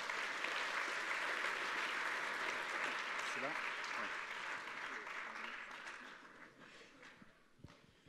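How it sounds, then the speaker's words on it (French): Steady applause from a large conference crowd at DevFest Toulouse 2018, loud at first and gradually thinning out, with some scattered claps and murmuring at the end. "on peut les applaudir"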